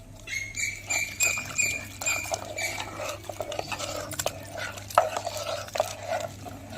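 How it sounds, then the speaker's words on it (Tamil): A utensil stirs thick flour-and-water batter in a bowl, with repeated soft scrapes and light clicks in an uneven rhythm. Nobody speaks. "கட்டி இல்லாமல் நல்லா கரைச்சி எடுத்துக்குவோம்."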